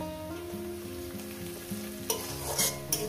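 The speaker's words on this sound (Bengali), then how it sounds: "দিয়ে আমি আরো 1 মিনিট চিংড়ি দিয়ে ভেজে নেব" Prawns fry with turmeric in a pan, giving a steady sizzle broken by louder bursts of spattering and scraping stirs toward the end, with a low hum beneath. No talking.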